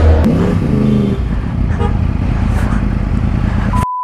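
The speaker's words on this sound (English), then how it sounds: "thanks to my friend Mohit for letting me have a nice little ride on his bike" A Yamaha YZF R1 crossplane motorcycle rides through city traffic, its engine a steady loud drone close by with a brief horn-like toot and road noise, ending abruptly in a cutoff.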